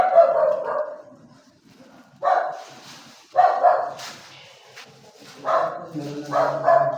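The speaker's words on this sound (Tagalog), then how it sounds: "Ito may aso dito guys." A dog barks in several short, sharp bursts spaced a second or two apart, fairly close, with some faint background sound between the barks.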